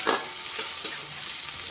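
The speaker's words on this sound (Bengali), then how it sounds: "টমেটোটা একটার সঙ্গে ভালো করে অবশ্যই ভাজতে হবে" Tomato mashed into onion and garlic sizzles steadily in a hot pan, a continuous frying hiss broken by a few soft spoon scrapes and clinks while it is stirred.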